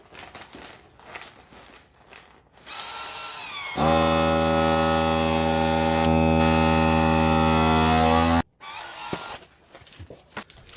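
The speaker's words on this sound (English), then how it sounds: "So now I'm just going to vacuum seal this using my food saver" A FoodSaver vertical vacuum sealer running on a bag of cured pork loin for pastrami, a loud steady motor drone lasting about five seconds, with handling noises before and after.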